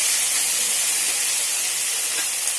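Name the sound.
prawn heads frying in oil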